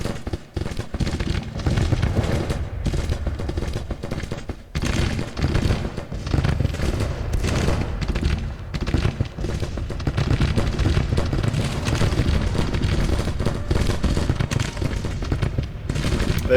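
Artillery battery and rifle fire in the Grand Tactician: Civil War strategy game, a continuous rumbling barrage of overlapping booms and crackling volleys at steady loudness throughout, with no talking.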